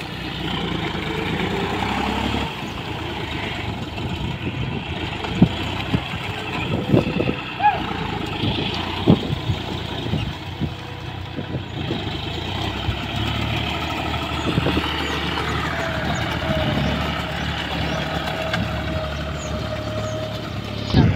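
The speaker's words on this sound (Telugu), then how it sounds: "ఆ ట్రాక్టర్ వెళ్ళిపోతుంది." A tractor engine chugs steadily at close range while plowing through mud, a continuous low drone with occasional knocks, as voices talk intermittently over it.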